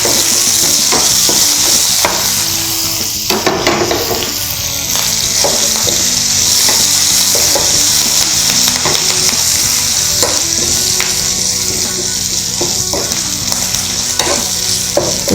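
Garlic, green chillies and curry leaves sauté in a hot pan for chicken 65, giving a steady loud sizzle throughout, with frequent stirring clicks and scrapes of a spoon against the pan.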